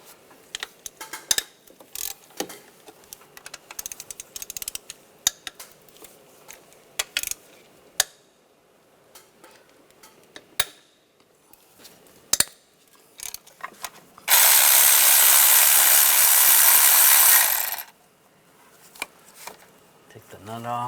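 A ratchet fitted with a 12mm socket loosens the intake-side nuts during valve cover work on a 1996-2002 Toyota 4Runner. Scattered close clicks and metallic clinks come through, broken midway by a loud, steady hiss lasting a few seconds.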